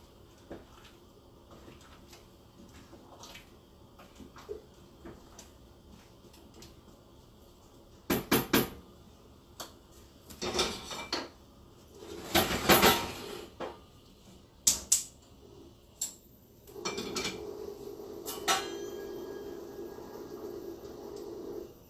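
A spoon clanks and scrapes in a pot of spicy lentil stew with butternut squash, then a lid clatters on, sharp metallic knocks in scattered bursts over a quiet kitchen background.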